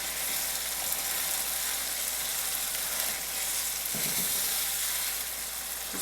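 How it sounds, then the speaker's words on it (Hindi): Chicken tikka pieces fry in a karahi with a loud, dense, continuous sizzle, with a brief scraping stir midway and no voices. "चिकन हम अपना अब भी भून रहे हैं"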